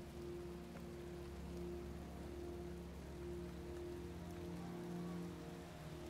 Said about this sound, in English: It never stopped raining in Villa.